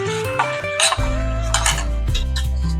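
Metal pot and utensil clinks and clatter ring out close by as mango is mixed with sugar and a lid is set on the pot, with a steady hum underneath.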